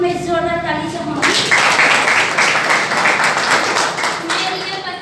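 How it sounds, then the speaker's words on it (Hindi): An audience at a business motivational event breaks into loud, sustained applause after a voice, the dense clapping swelling and then gradually tapering off. "सर के सम्मान में जोरदार ताली चाहूँगी"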